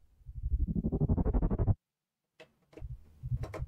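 A cinematic trailer downer effect from the Tonal Trailer Tools library, a loud pulsing, rhythmically gated low tone that rises and suddenly cuts off, followed by brief silence and fainter stuttering bursts.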